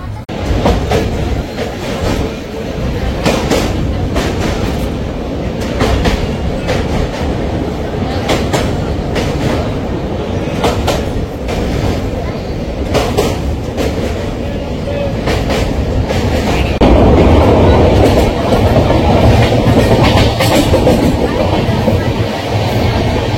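A moving train rumbles loudly and steadily, its wheels clacking in a repeating rhythm over the rails, with the din growing heavier near the end.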